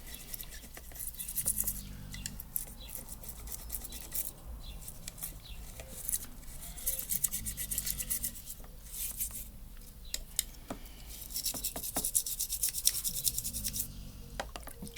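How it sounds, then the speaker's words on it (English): A toothbrush scrubs an item in a water bath, giving soft, irregular bristle scratching in repeated bursts with faint splashes and pauses between strokes. "I get it into the water, scrub it with the toothbrush."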